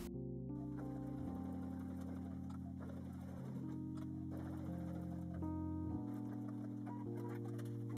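A sewing machine runs steadily close by, stitching a final seam on a fabric vanity bag, its motor humming with shifting pitch as speed changes and a brief pause at the start.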